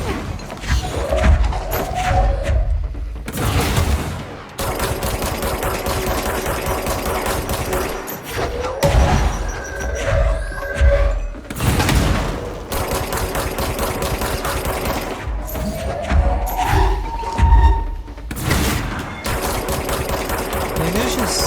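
Heavy booms and blasts from grenade explosions in the video game Control, during the AWE expansion, come in loud bursts every few seconds over a steady rumble of combat noise and gunfire.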